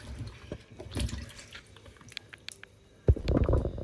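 Cut yam pieces are rinsed in water, with sloshing, dripping and squishing as the pieces are stirred, then a louder splash near the end; close and moderate in level.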